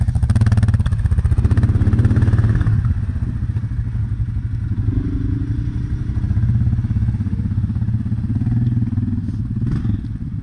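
Kawasaki Brute Force 750i, Suzuki King Quad 750 and CF-Moto ATVs churning through snow, engines roaring loud and continuous, heaviest revving at the start and then a steady, slightly wavering drone with some clatter.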